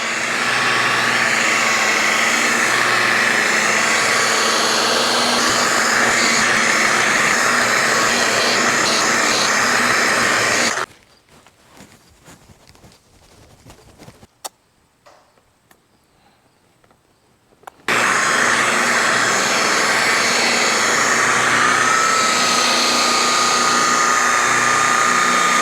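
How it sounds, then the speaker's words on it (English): A car paint polisher runs at higher RPM on a paint job, a loud steady whine that cuts out for several seconds of near silence, then starts again just as strongly. "When you're using this polisher, you really want to go and play against the turn"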